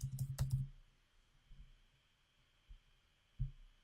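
A quick burst of clicks from a computer keyboard being typed on, followed by a few isolated key taps amid a quiet room hum.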